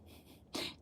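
A single sneeze bursts out near the end, short and fairly close, following a stretch of quiet room tone.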